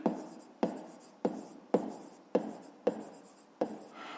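Pen or pencil strokes set down a math solution on paper, seven evenly spaced, quiet scratching bursts, each a sharp tap trailing into a brief scribble.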